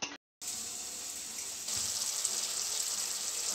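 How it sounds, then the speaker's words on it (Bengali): Water poured into a prawn curry masala in a home kitchen, a steady hissing pour that follows a brief gap and runs evenly to the end. "মা একটু জল দিয়ে দিল এর মধ্যে।"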